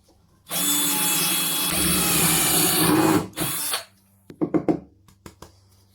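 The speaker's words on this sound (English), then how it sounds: "And all that will do is drill a very simple hole" A spiral-fluted wood drill bit bores a hole in wood: a close power-drill whine holds steady for about three seconds, cuts out briefly and resumes, then a few light knocks and clatters of handling follow.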